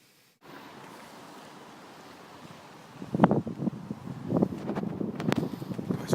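Wind blusters outdoors on a blustery day, a continuous rushing noise that starts abruptly, then grows gustier with sharp buffeting bursts hitting the microphone near the end.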